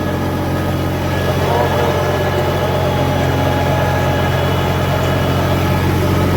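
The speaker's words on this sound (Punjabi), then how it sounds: "ਵਧੀਆ ਚੱਲ ਰਿਹਾ ਬਾਈ ਟਰੈਕਟਰ" A tractor engine runs steadily at close range in a stubble field, a loud continuous low rumble with no pauses or changes in pace.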